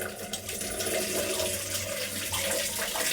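Water runs steadily from a tap in a home bathroom with a concealed wall valve and overhead shower, a continuous broadband rush that stays close and fairly loud throughout, with no voices.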